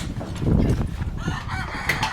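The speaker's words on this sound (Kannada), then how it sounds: "ಇವು ದೊಡ್ಡ ಕೋಳಿನ ಒಳಗೂ ಅದಾವಣ" Native country chickens in a poultry farm shed in Dharwad cluck and call close by, a busy layered flock chatter with one sharper cry near the end, no clear talk over it.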